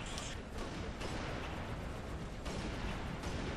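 A sniper rifle fires in the video game Halo Reach, with dense, booming blasts over a constant roar of battle noise and no distinct pause between them.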